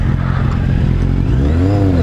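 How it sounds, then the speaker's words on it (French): A motorcycle engine revs up and down close by in a short, loud burst with a rising whine near the end. "Je remonte sur ma bécane"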